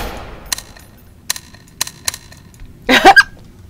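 Single gunshots in the game Estranged, five sharp isolated cracks spaced unevenly over a quiet background, followed by a brief louder burst of noise near the end.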